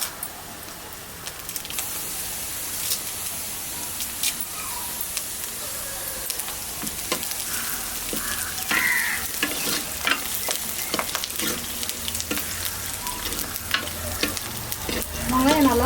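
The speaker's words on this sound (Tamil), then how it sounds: "நல்லா வதக்கிக்கலாம் நல்லா வதங்கி வந்துடுது வெங்காயம்" Onions and curry leaves sauté in a pan for a Navara fish curry, giving a continuous loud sizzle with frequent scraping and tapping of a spoon stirring throughout.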